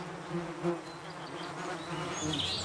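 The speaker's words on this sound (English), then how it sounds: "He gets covered in bees and gets stung" Bees swarm around a beehive sitting on the ground on an island, a steady close droning buzz with a few louder passes and higher whines toward the end.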